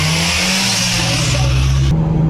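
Mitsubishi Evo X engine revving loudly and close, a steady rising drone that climbs in pitch before cutting off abruptly near the end.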